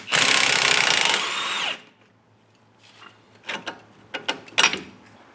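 Power tool spinning off an 18 mm strut bolt on an Audi B8 front lower control arm, a loud buzzing whir for under two seconds, then quiet clinks and rattles of metal parts.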